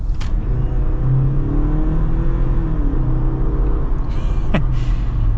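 A 2024 Jeep Wrangler Rubicon accelerates, a loud close engine rumble with harmonics climbing and shifting over several seconds, wrapped in steady road and wind noise.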